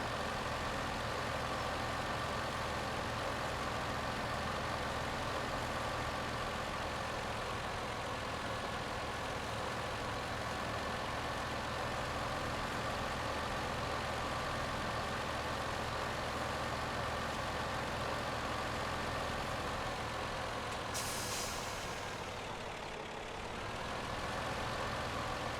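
A tractor engine in Farming Simulator 17 runs at a steady, continuous drone, with a low idling rumble that holds evenly throughout and dips briefly near the end; no speech.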